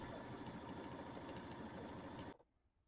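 A computerized embroidery machine stitching a quilting design runs with a rapid, steady mechanical whir and needle patter, close and even, before cutting off abruptly near the end, leaving near silence.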